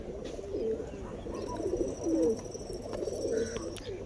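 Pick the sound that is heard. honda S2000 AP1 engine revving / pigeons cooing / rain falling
pigeons cooing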